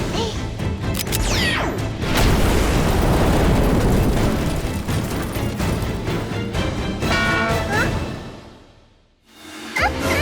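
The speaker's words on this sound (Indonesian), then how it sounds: "Bola meriam menghantam Baby Doll" A cannon fires a cannonball in a loud, continuous burst of crashing, booming blasts with whooshing debris that rumble on for several seconds, then drop away briefly before another sharp hit at the end.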